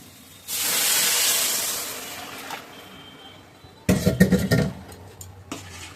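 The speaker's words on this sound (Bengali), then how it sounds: "এবার পোলাওর দিকে আমি ওই জলটা ছেড়ে দিচ্ছি" Hot water is poured into pulao rice in a pot: a steady rushing hiss swells for a couple of seconds and fades, then bubbling, sputtering gurgles and clatter follow up close.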